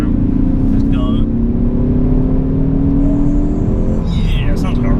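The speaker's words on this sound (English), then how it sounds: "Yeah, it sounds like a race car." Ford Focus ST hot hatch engine revving as the car accelerates, a loud, rising drone heard from inside the cabin, climbing steadily in pitch, with a voice speaking briefly near the end.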